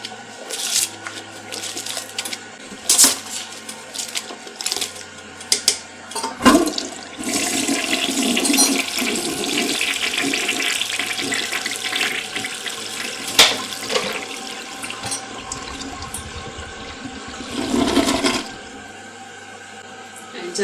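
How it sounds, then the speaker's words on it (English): A household toilet flushing after bowl cleaning, water rushing and gurgling with rising and falling swells, brief clatters and a surging peak near the end before settling into a quieter refill hiss. "I'm gonna flush it one more time"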